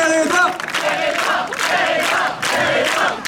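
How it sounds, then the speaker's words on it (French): A street-show audience in Kerfeunteun, Quimper claps and cheers for Pierre-Édouard, a dense burst of applause and shouting voices swelling in waves close by. "On applaudit Pierre-Édouard."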